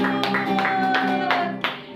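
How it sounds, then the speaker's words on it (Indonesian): Children and adults at a Sunday children's church service clap their hands in a steady rhythmic beat, sharp claps repeating about three times a second over a sustained musical tone. "tepuk tangan untuk Tuhan Yesus"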